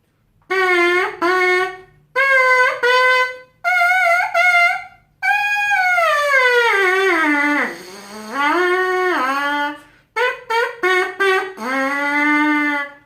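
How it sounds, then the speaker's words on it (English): High, nasal buzzing tones from a trumpet mouthpiece buzzed alone, in short bursts and one long sliding wail that dips and rises, loud and close with brief pauses between phrases. "to get a higher pitched noise on your mouthpiece."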